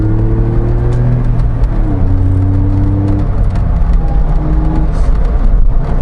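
A roadster's engine revs up through rising pitch under hard acceleration, shifting gears with brief drops, loud and close throughout.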